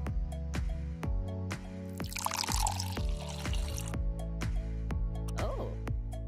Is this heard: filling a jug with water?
yes